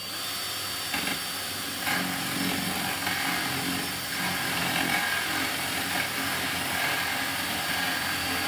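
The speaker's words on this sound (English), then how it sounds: "Drill it." A power drill whirs through a kitchen installation job where an integrated washing machine and a freestanding dryer are being fitted, giving a continuous, fairly even grinding drone with small surges and no voices.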